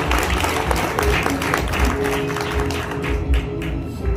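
An audience at a real-estate awards ceremony claps in a dense, steady patter of many hands, with a few faint voices mixed in.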